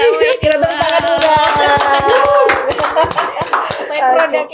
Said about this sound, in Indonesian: Kita tepuk tangan juga.